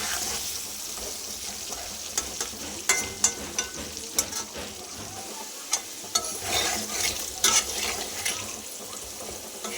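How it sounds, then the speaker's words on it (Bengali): Potatoes frying in oil with salt and turmeric, a continuous soft sizzle broken by several louder crackles and scrapes of stirring, with no talking. "আলুগুলো নুন হলুদ দিয়ে সুন্দর করে ভেজে নেব।"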